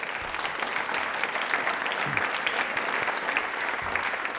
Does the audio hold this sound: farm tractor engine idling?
no